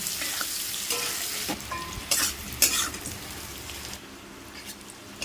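Papaya and potato sautéing in a pan with the flame turned low: a steady, close hiss of frying with scraping stir strokes and a few louder clattering bursts partway through, with no talk.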